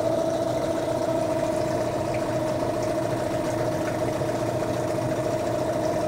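A warmed-up Yamaha outboard boat motor idles steadily nearby, a constant low hum with a steady mechanical tone and no change in pitch.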